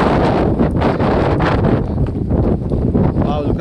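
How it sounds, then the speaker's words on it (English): Strong wind buffets the microphone on a mountain in Texas, a steady loud rushing roar with gusty surges that continues throughout. "I don't know if you can hear the wind."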